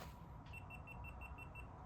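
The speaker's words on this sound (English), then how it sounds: "Why are you beeping?" A camera running on a brand new battery gives a quick, steady run of about eight short, high electronic beeps, faint over low room noise.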